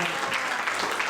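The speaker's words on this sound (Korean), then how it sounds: "박수 부탁드리겠습니다." Brief burst of applause from a lecture audience at a university camp talk, steady dense clapping throughout with no speech.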